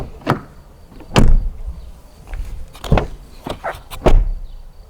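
A Dacia Bigster's front door swings shut in several close, solid thuds with latch clicks, spread over a few seconds with no talking.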